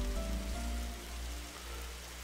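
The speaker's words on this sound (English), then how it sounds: "Oh, I hate the rain. What terrible weather." Rain patters steadily on a surface in a game setting, a soft continuous hiss with a low hum and faint tonal music underneath, no voices present.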